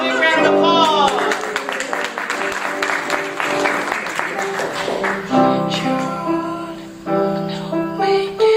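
Audience applause for a performer at a Rotary gathering, a short burst of clapping between held musical notes and a voice, fairly close and moderately loud.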